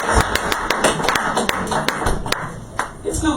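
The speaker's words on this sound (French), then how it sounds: "On va encore applaudir, s'il vous plaît, pour l'encourager." Scattered hand claps and taps from a small group, irregular and fairly close, with voices murmuring underneath.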